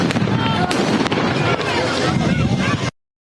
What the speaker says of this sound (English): fireworks and flashbangs marked another night of unrest on the streets of Brooklyn Center near Minneapolis